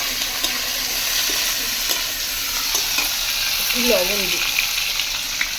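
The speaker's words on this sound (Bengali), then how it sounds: "এখন পেঁয়াজগুলো ভালোভাবে লাল লাল করে ভাজে নেবো" Onions being cooked for a chicken dish sizzle steadily in a pan while a spoon stirs them, loud and close, with a brief spoken remark partway through.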